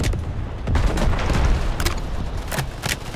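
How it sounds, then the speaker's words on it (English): Rapid gunfire in the shooter game Delta Force, a steady crackle of shots with a few sharper, louder bursts standing out, dense and close, with no voices. "These guys are shooting me through smoke."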